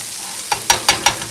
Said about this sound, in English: So now I'm using this spatula.